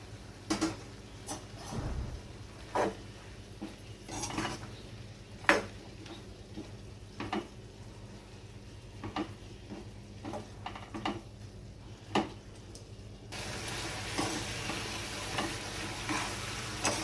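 Grated coconut is stirred into vegetables in a pan for a papaya curry, a utensil scraping and tapping at irregular intervals over a low sizzle that grows louder and brighter near the end.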